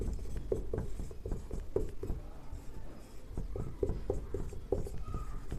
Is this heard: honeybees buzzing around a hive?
no